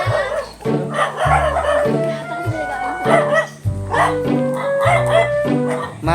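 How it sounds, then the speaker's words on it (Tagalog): A dog barks several times in short bursts, mixed with people talking and a rooster-like yip in an outdoor rural setting during a nature trip. "Uy, aso."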